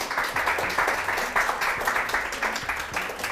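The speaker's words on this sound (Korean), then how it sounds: "문성우 작가님을 큰 박수로 모셔볼게요" Studio audience at a Korean lecture show clapping to welcome a guest author onto the stage, a steady burst of applause close and full throughout.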